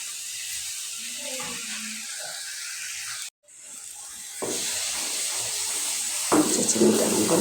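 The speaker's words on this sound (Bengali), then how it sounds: "এই যে চিনিটা আমার গলতে শুরু করছে।" Sugar melting and sizzling in a pan while halua is cooked from chana dal, a steady close hiss with brief clatters of stirring, a short break, then a louder, brighter sizzle.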